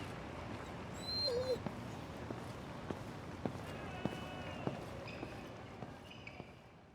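Sumo the dog whimpering: a few faint high whines and squeaky cries scattered among soft footsteps and light thuds, quiet and intermittent.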